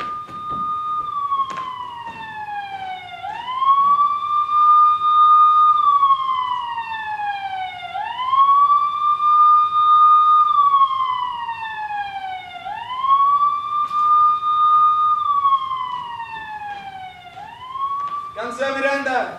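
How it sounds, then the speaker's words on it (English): Police car siren in San Juan, Puerto Rico, a loud wailing tone sweeping down and back up in repeated slow cycles of about four seconds, with a voice speaking briefly. "There's a police car."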